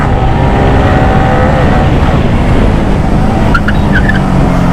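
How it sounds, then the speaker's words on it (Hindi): A KTM Duke 250 motorcycle on a hot city street roars loudly, with road and wind noise, and near the end its tyre gives a few brief squeals under hard braking. "देखा आपने भाई कैसे आवाज़ कर रही है ड्यूक की ब्रेक्स, ब्रेक की वजह से टायर से।"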